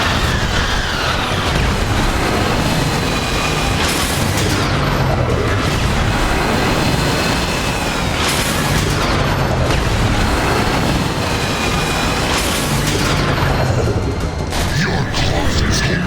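Missile explosions in the Transformers War For Cybertron video game, a dense, continuous barrage of loud booms and blasts with recurring bursts every few seconds, layered over a steady roar of battle noise.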